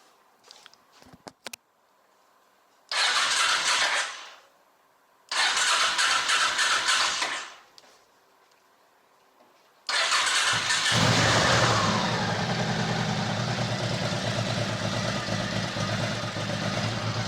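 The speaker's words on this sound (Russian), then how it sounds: "включаем зажигание и запускаем двигатель" A Honda VT700 motorcycle engine cranks twice in long bursts without catching, then fires on the third try and settles into a steady, loud idle.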